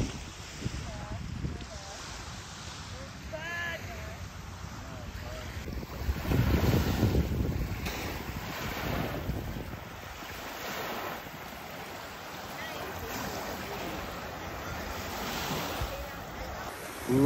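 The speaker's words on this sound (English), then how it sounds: "Love the beach at night." Ocean waves wash onto the beach at Cedar Point at night, a steady surf rush with wind buffeting the microphone and faint voices in the background.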